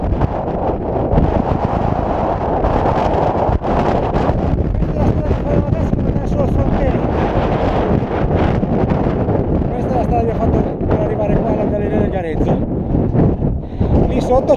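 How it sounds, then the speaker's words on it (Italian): Strong, cold wind roars across the microphone on a mountain above the Garezzo road tunnel near Triora, a constant loud buffeting rumble with no break. "Peccato per il vento, perché la giornata è spettacolare."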